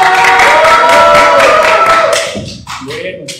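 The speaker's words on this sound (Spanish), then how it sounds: "Bueno, un gran aplauso, aplauso." A group gives a round of applause during a university sports welcome festival's physical activation session, with dense clapping under talking voices for about two seconds before it fades and speech continues.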